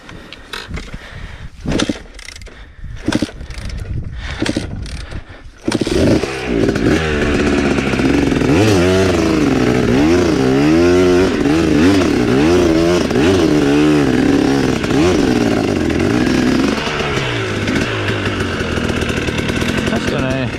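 Dirt bike engine on an off-road hill climb, loud and close, revving hard with rising and falling pitch sweeps for most of the stretch after a quieter opening with scattered clatter.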